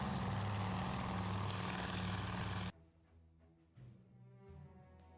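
Propeller aircraft engines roar in Task Force Admiral, a Battle of Midway naval game: a loud, steady droning rumble for almost three seconds, then it cuts off abruptly to quieter tonal music.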